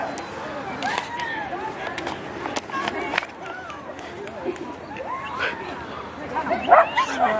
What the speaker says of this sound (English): There were some dogs here